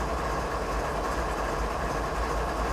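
A steady, low rumble from a train running in Train Simulator, with a constant engine drone and faint rail noise and no talk over it.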